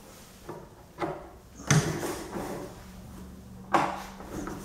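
IKEA Micke drawer unit rolling across the floor on its casters with its brakes off, a soft low rumble broken by a few knocks and bumps from the shell's panels, close by.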